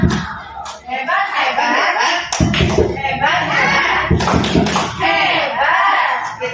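Group clapping chant, the tepuk hebat routine, with sharp rhythmic hand claps and slaps in bursts, mixed with loud chanting voices of teachers in a workshop setting; people talk and call out between the clap patterns.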